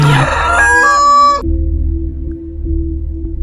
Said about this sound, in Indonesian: berkokoklah ayam